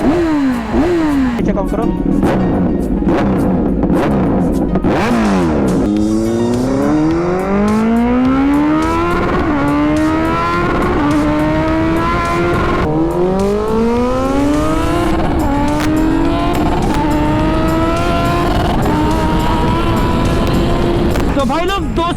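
A Kawasaki motorcycle starts up and revs hard and close, with repeated rising and falling engine sweeps climbing in pitch, while someone talks over it.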